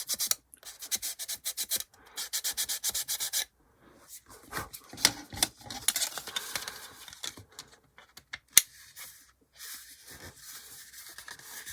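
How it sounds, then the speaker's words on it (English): Sanding on a plastic 1/48 HK Models B-25J scale model kit, close rapid scratchy rasping strokes in bursts with brief pauses, alone without talk. "I realize it's been 30 minutes of sanding."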